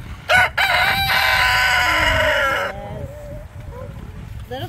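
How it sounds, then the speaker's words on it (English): A sanctuary rooster crows loudly and close by, one long drawn-out call with a short lead-in, then fading into quieter background noise. "Alice the rooster."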